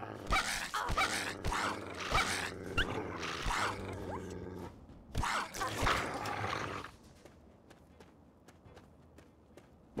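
A dog in the Fallout 3 video game growls and barks in loud bursts, with game sounds and impact-like thumps over several seconds before things quiet down. No one talks.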